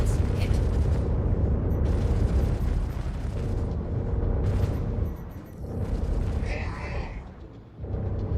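Missile strikes bursting against a ship's shields in a space combat game, heavy rumbling booms and mechanical clatter rolling continuously for several seconds, with a brief lull and a renewed hit near the end.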